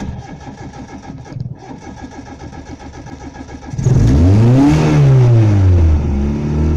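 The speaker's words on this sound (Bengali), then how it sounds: "তো আমরা ইঞ্জিনটাকে স্টার্ট করে নিচ্ছি।" A car engine cranks with a rapid rhythmic churning from the starter, then catches and roars up into a loud close rev before settling toward idle, alone without speech.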